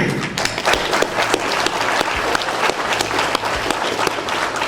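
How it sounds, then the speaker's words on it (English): Clapping from a wrestling hall of fame crowd, with distinct individual claps and thumps within the applause, moderately loud and close, continuing steadily throughout. "So I want to applaud you right now for just a second."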